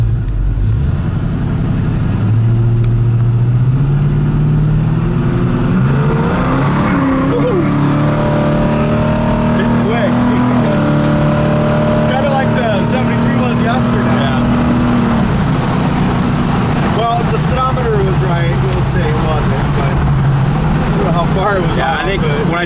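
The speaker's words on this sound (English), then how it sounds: "it's sitting here idling at 500 RPMs, not dying on us" A 1970 Camaro engine rumbles steadily at a low idle around 500 RPM throughout, with people talking over it and the hum shifting slightly as the revs change.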